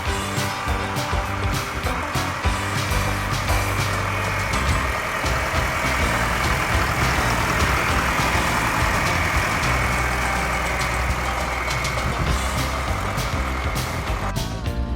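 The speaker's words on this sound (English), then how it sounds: "here's a nice 1965 John Deere 3020. That's a diesel, used for haying out on the farm" A 1965 John Deere 3020 diesel tractor, used for haying on a farm, idles steadily with a dense, continuous low rumble and clattering engine texture throughout, fairly loud and unbroken.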